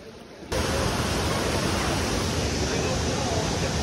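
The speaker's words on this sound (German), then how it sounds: "Das ist der beste Wasserfall, den ich mein ganzes Leben gesehen habe." A powerful waterfall roars close by as a loud, steady, broadband rush of falling water, starting abruptly after a quieter opening half second.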